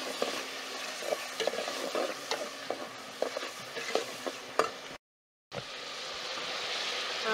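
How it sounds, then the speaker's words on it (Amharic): Chopped onions sizzle steadily in hot oil while a spoon stirs and scrapes the pan in repeated strokes, close and alone, with a brief gap before the frying resumes, during shorba preparation. "ዘይት እንጨምራለን እናጠቅላላለን አጭ ሽንኩርት እንጨምራለን"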